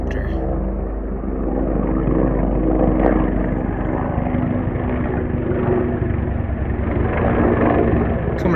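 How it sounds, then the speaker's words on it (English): A helicopter flying over a small lake in Algonquin Park gives a steady, continuous low rotor drone that holds loud and even throughout, with no break in the engine noise. "Helicopter."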